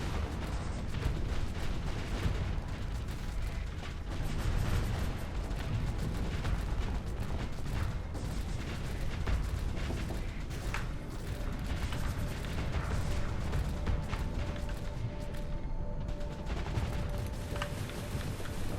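Small craft munitions firing in the Starsector space combat game, a dense, continuous barrage of mechanical bursts and booming shots rumbling steadily throughout, loud and close with no speech.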